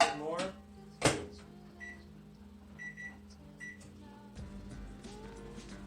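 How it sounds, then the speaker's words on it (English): A microwave oven runs while bacon cooks inside, a low steady hum with a door clunk near the start and a few faint beeps, as a person talks throughout. "I'm gonna cheat and just microwave it"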